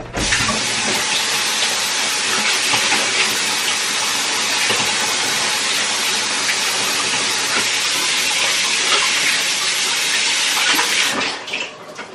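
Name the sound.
running water while washing hands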